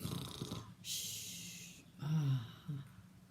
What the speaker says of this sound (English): He rolled over on his back and snored.